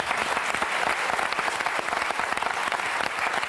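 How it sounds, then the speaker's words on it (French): A television studio audience applauds for Arnaud, a loud, dense, continuous wash of clapping from a large crowd without a break. "Je vous demande d'applaudir Arnaud"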